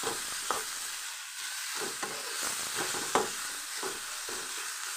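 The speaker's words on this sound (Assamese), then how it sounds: "আৰু এইফালে প্ৰায় শাকখিনি ভজা হৈ গৈছে।" Lai xaak mustard greens fry and get stirred in a pan, giving a steady close sizzle broken by repeated scraping stirs at an irregular rhythm, with no talking.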